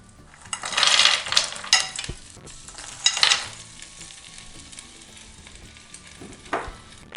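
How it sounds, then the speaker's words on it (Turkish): Frozen manti dumplings frying in oil in a pan, a steady close sizzle with louder bursts of crackling as they are stirred, plus a few light clinks of a utensil. "Mantıları güzelce kavuruyorum."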